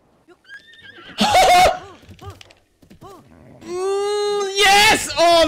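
A horse in The Legend of Zelda: Breath of the Wild gives loud whinnies and neighs with clip-clop hooves. An excited person speaks over the calls, which rise strongly near the end.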